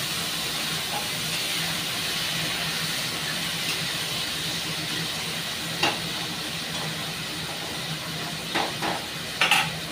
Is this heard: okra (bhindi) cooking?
yes